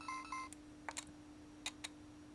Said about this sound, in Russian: смотрите, какой звук выключения у него прикольный